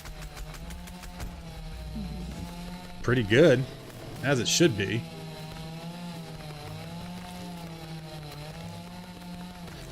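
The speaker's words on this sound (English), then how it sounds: "Breaking out the chainsaw after all." A chainsaw revs in the video game Dinkum as it cuts a plant, with a steady engine drone and two louder bursts in the middle of the clip, under a voice talking.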